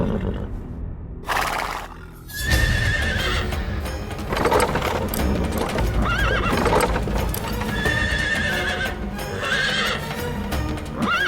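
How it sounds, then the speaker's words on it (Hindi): Horse pulling a chariot and refusing to move, giving several loud, shrill neighs and whinnies over stamping hooves and dense dramatic background sound, close and intense throughout. "घोड़ा आगे ही नहीं बढ़ रहा है।"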